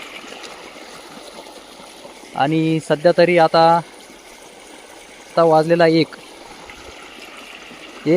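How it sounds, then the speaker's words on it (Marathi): A steady rush of water gushing from a 5 HP solar pump into a wheat field runs throughout, with someone speaking over it in two short bursts. "असा हा पाण्याचा प्रेशर आहे, एकदम जबरदस्त पाणी चालू आहे."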